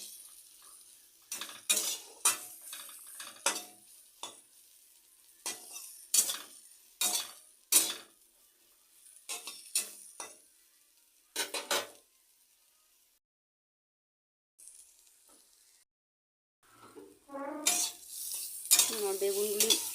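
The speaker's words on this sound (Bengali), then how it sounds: "বেগুনগুলি ভাজা হয়ে গেছে" Eggplant pieces fry in a pan with a light sizzle while a utensil scrapes and clinks against the pan in quick repeated bursts. A short quiet pause comes before the stirring resumes.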